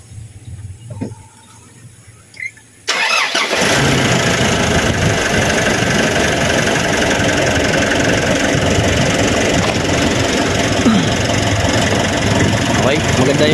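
A motor starts up abruptly after a few seconds of quiet, then idles loudly and steadily with a rough, knocking rumble up close.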